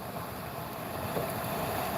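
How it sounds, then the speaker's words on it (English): Strong wind roars steadily against the microphone, a constant broadband rush with no gaps and no voices. "It's super windy."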